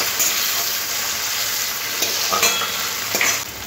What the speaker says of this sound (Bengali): তারপরে একটা কেটে রাখা টমেটো দিয়ে দিলাম পেঁয়াজের মধ্যে, দিয়ে টমেটোটাও ভালো করে ভেজে নিতে হবে।